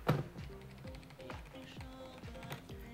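A Razer Cynosa RGB membrane keyboard is typed on in soft, quiet, even taps, several keystrokes in a loose rhythm with nobody talking.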